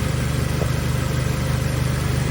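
A car engine idling steadily nearby, a constant even hum with a low throbbing pulse that holds unchanged throughout, no talking and no revving.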